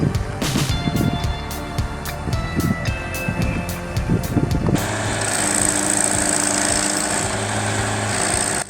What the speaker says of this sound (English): This machine was built to remove stumps.